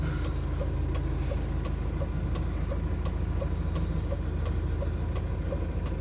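Vehicles idling in a traffic jam on a mountain highway in Kashmir, halted after a landslide, a constant low engine rumble close by with regular faint ticking, steady and without voices.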